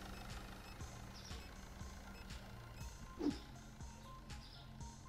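Faint repeated electronic beeps come from the Supermarket Simulator video game, a regular series of short tones over a quiet background hum.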